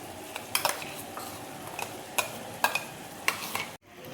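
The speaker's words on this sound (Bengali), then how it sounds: "মিক্সির বাটা মশলাটা দেখো দিয়ে দিচ্ছি" Ground masala paste being added to a pan and stirred for aloo dum, heard as scattered scraping and clinking of a spoon against the pan over a soft sizzle, ending in abrupt silence.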